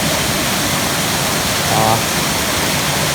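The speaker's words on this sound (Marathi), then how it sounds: "तर पाण्याचा पोस चांगल्या प्रकारे आहे आणि चांगली धडपडली आहे इथे" A waterfall in the Konkan roars as a steady, loud and close wash of rushing water that fills the whole clip.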